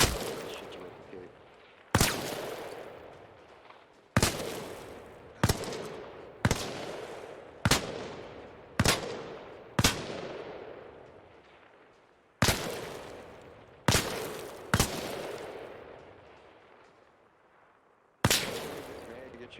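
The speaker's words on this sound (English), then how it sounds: "May I get you to stop shooting, please?" Repeated gunshots during a casualty care training exercise, about a dozen sharp loud reports at irregular intervals, each with a decaying echo, and no talk.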